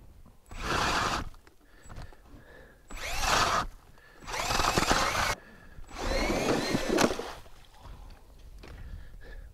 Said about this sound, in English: gave us this beautiful e-drill set up here, which I've hooked up to my clam, and we'll give it a try here